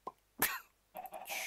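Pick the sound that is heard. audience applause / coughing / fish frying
coughing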